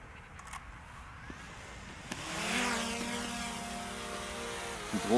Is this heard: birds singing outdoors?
no